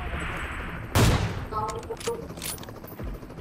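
A sharp loud gunshot burst followed by several quicker, lighter shots and clicks, with game noise and a voice faintly underneath.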